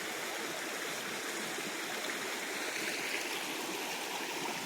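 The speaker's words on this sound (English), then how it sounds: "we found another creek" A creek in the woods along a backpacking trail flows steadily, a close, continuous rush of running water with a bright hiss and no talking.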